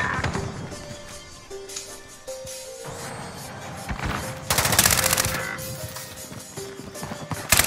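Call of Duty gunfire crackles in quick automatic bursts and scattered shots, growing heavier toward the end, layered over in-game effects and tones.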